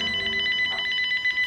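A telephone rings in the film Vice: a rapid, steady electronic trill, loud and close, with no voices.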